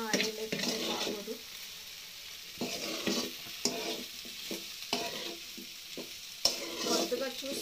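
Okra fries in a pan with only a little oil, a steady close sizzle broken by repeated scraping stirs in an uneven rhythm, with no talking.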